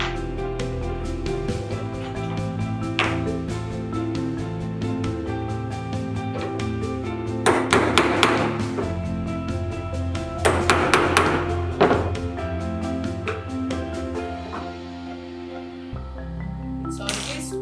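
Repeated taps and thuds of a hammer punching a hole through handbag material for rivets, a steady run of sharp strikes with a few heavier clusters, close up and fairly loud.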